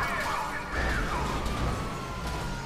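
Police car sirens in the video game GTA V, a wailing, sweeping tone rising and falling over engine noise and crashes, moderately loud and continuous for a few seconds.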